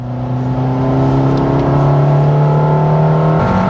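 A steady, loud engine drone and road hum from inside a car as it takes a curve at high speed, holding an even pitch throughout with no voices.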